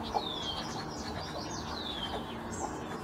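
Several birds call and chirp over a flooded river plain at a spring fish spawning ground, with repeated high sweeping whistles above a steady bed of water and ambient noise.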